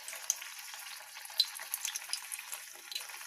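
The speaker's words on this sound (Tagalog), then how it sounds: "pritong talong" Eggplant frying in a pan gives a soft, continuous crackling sizzle with small scattered pops, faint and close, with no voices over it.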